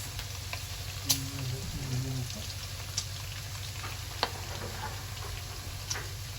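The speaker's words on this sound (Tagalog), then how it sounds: "Yan yung ating sibuyas sa kabawang. Ginisa ko na." Garlic and onion sauté with bacon in a pan, sizzling steadily and close by, with occasional light clicks and stirring taps over the frying.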